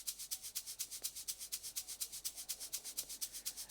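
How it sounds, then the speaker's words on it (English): A sliced shaker loop in an Afro house beat, dry, rhythmic hissy shakes repeating at a steady, quick sixteenth-note pulse, bright and close with no other instruments or voices. "And the next shaker basically did the same thing."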